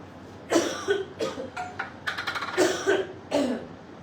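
A person coughs repeatedly, in several short bursts over a few seconds, close and fairly loud against a quiet indoor background.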